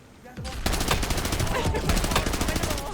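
Gunfire rattles in the Call of Duty Warzone video game, with dense automatic bursts running almost without pause after a brief quieter start. The shots stay loud and close throughout.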